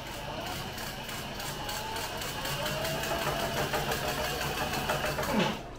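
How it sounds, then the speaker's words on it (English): A sewing machine runs continuously, stitching the sides of a two-tone tote bag, its rapid mechanical whir and needle ticks steady and close, with a brief shift in tone just before it stops. "I'm just stitching down these two sides"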